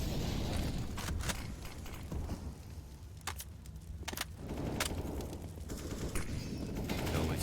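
Dense, fast gunfire in a professional Counter-Strike match, rattling continuously with sharp individual cracks standing out, loud and close throughout.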